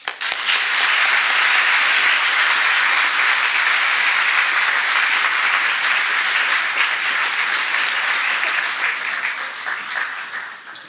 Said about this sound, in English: if we could, one more time, round of applause for Mr. Dan Bennett and Miss Becky Vizgelis.